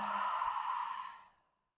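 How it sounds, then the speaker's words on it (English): One long, soft exhale of breath during a yoga session by a river, airy and close, fading gradually into silence. "And exhale, let something go."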